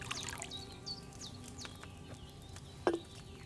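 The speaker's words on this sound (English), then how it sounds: "you have to pour the right base into the cauldron" Wine is poured into a cauldron in Kingdom Come: Deliverance II, a soft, quiet trickle with faint birdsong chirping in the background and a brief knock near the end.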